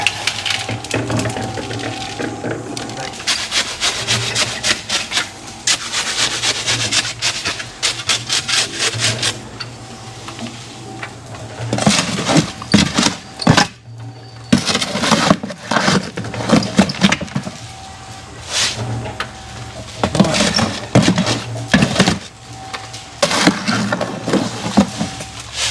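Hand-mixed concrete for a small DIY shed, a gritty scraping and rasping of a tool dragged through wet, sandy mix in quick repeated strokes, close and steady with occasional heavier scoops and knocks.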